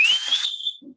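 A sharp, rising whistle rings out briefly, then fades, followed by a faint low murmur.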